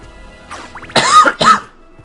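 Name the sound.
coughing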